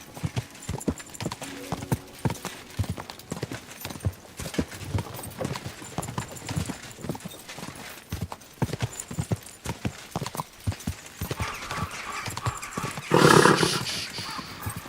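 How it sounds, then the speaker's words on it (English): Rapid hoofbeats clatter in a steady galloping rhythm in the video game Kingdom Come: Deliverance II, ending in a loud, close horse whinny near the end. "Easy, good horse."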